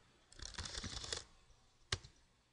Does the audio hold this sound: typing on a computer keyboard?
yes